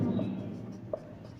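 Chalk writing on a board in a physics classroom, faint scratchy strokes with a light tap near the end, quiet and close beside a lingering trace of the teacher's voice.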